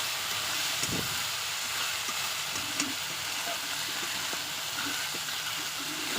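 Fried potatoes added to a cooking spice paste sizzle and hiss steadily throughout, a continuous close frying sound without talk.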